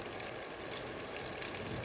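Tomato paste, garlic-ginger paste, salt, chilli and turmeric fry steadily in a pan for nargisi kofta, giving a constant close hiss and sizzle with no talking.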